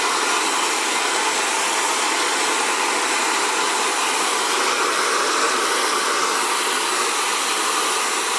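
An Xtava Allure Professional ionic ceramic hair dryer runs steadily at a powerful setting while styling curly hair, a continuous loud whooshing airflow with an even motor whine and no pauses.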